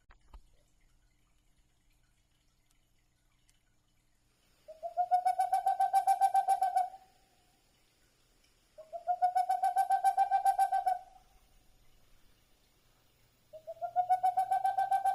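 A boreal owl of northern boreal forest gives three rapid, even trills of hollow whistled notes, each lasting about two seconds and separated by quiet gaps, clear and alone.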